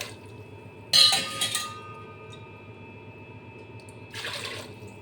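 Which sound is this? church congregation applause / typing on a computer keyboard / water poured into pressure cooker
water poured into pressure cooker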